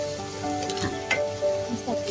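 Plenty of garlic sizzling in a frying pan, a steady close frying hiss with a few soft clinks and stirring sounds, no talk.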